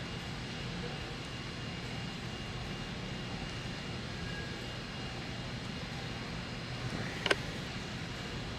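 Aircraft engines drone steadily at Los Angeles airport, a constant low rumble with one brief sharp click near the end and no talk.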